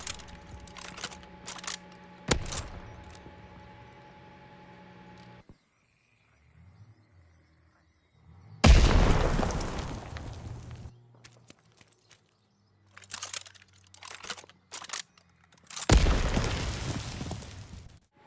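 Gunfire, jumps and footsteps in the first-person shooter Vanguard on the Bocage map sound as sharp bursts and loud booming blasts, separated by quieter stretches of movement and ambient crickets.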